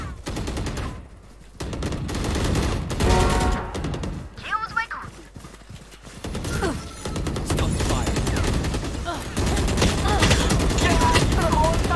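Rapid gunfire from the video game Valorant, bursts of shots running through most of the stretch with a loud, dense mix and a voice talking over parts of it.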